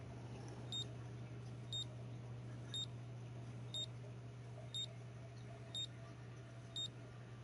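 OBD scanner in Car Mechanic Simulator 21 giving short, faint, evenly spaced beeps about once a second, seven in a row, over a steady low electrical hum.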